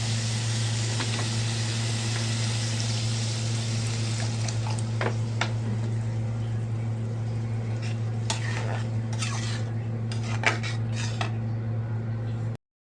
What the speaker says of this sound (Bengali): এবার একটু পানি দিয়ে দেব।